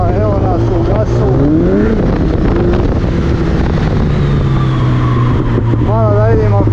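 A 2008 Yamaha XJR 1300 motorcycle cruises on the road, its engine a steady close drone under heavy wind rush, with a few short rising revs.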